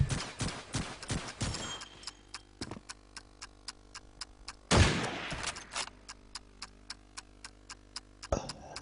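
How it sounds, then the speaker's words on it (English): Gunfire in a Call of Duty 2 clan match, France versus Slovenia, with a dense opening burst of shots followed by steady, evenly spaced single shots and a couple of heavier blasts, loud and close. "He's got 20 seconds to kill 4 players and he's going to get pistol bashed by X-Mo and shot in the back by Marat."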